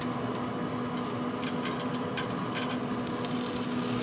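Redfish pieces frying in butter in a pan give a steady, close sizzle with crackling pops throughout, brightening toward the end.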